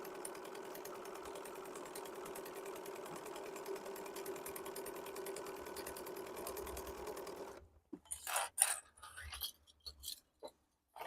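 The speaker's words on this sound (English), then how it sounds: "We got 2 more to sew together" A sewing machine stitches fabric pieces together for handmade teacher gifts, running in a steady, even whir for about seven seconds before stopping, followed by a few brief handling sounds.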